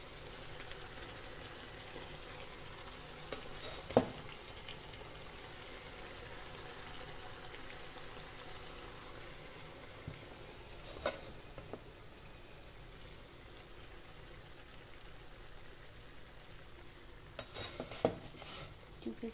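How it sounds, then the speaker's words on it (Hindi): Rice and chicken biryani is stirred in a pot, with soft intermittent scrapes of the spoon over a faint, steady sizzle, quiet and close. "पहले मैं इसको मिक्स करती हूँ"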